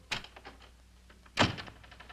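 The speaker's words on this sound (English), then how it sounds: "Close the door." A door shuts in an army officer's office: a soft thud, then about a second later a louder, close thunk, with quiet room tone around both.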